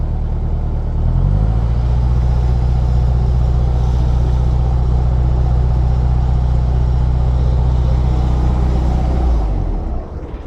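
A narrowboat's engine kicks into propulsion after about a second, holding a loud, steady, rumbling throb for several seconds before dropping away near the end.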